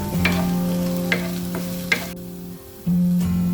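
Onions fry in hot oil in a pan before spice powders go in, a steady close sizzle with a few scraping stirs and a low hum underneath, the frying cutting out briefly near the end.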